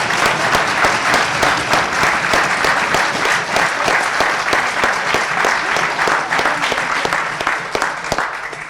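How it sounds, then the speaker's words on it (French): A packed audience at a high-school eloquence prize and debate cup applauds loudly and steadily, a dense wash of clapping that holds at full strength from start to finish. "applaudir très fort."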